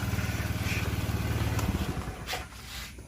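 A motorcycle engine runs close by with a steady low throbbing pulse that gradually fades, with some faint clatter and no talking.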